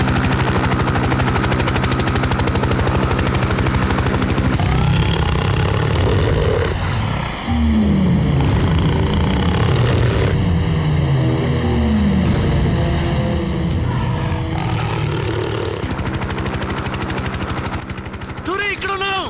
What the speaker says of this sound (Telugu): హెలికాప్టర్ రా